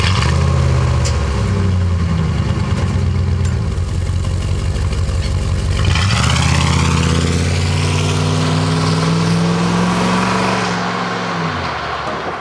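A deep Dodge Ram V8 truck exhaust with a replaced Flowtech Raptor muffler rumbles at idle, then revs up with a throaty rising growl before settling back down; loud and close, no voices.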